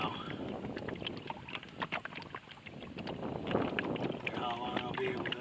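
A small sailboat drifting downwind on open water, with gusty wind buffeting the microphone over the low wash of water along the hull and a few creaks, fairly quiet throughout.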